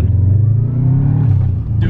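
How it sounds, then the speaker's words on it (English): A Subaru WRX accelerates on a test drive, its engine rising in a low, throaty rumble heard from inside the car while people talk over it. "We just accelerated."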